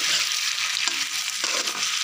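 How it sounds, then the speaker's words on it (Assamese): Mutton pieces frying with potatoes in a pan for a simple mutton curry, a continuous loud sizzle with a couple of stirring scrapes, close up and without talk. "এতিয়া মই আলুখিনিৰ সৈতে মাংসখিনি ভাজিম"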